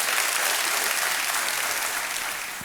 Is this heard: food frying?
no